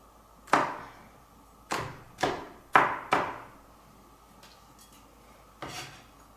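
Garlic being chopped with a knife on a cutting board in a home kitchen, five or six sharp, close knocks spaced irregularly with brief gaps, a softer one at the end.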